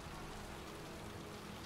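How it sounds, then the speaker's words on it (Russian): Heavy rain pours steadily in a dirty, foul-smelling alley in the Heavy Rain video game, a soft, even downpour hiss that runs through the whole short stretch with no voices. "тут ливень хреначит, а он без зонта"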